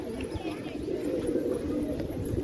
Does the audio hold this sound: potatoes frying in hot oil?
no